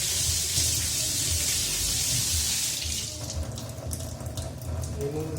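Water runs steadily from a tap, splashing as a reverse osmosis filter membrane is rinsed under it, then the flow changes and drips and clatters follow.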